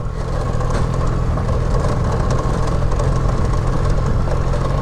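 A motorcycle engine rattles and drones as it rides a rough, steep village track through the hills, a loud, steady low rumble that continues without a break and has no talk over it.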